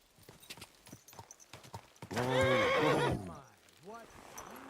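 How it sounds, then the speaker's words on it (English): A horse in a video game whinnies loudly in a long, wavering neigh, preceded by clopping hooves and followed by a shorter snort, with ambient game sounds behind. "What beautiful horse."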